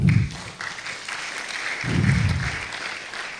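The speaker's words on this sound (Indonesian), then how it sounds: "Tepuk tangan sekali lagi untuk Pak Ardi" Audience applauding a speaker named Pak Ardi at a Nasa Nuera business presentation, a steady wash of clapping from a crowd that swells again midway, with no voices over it.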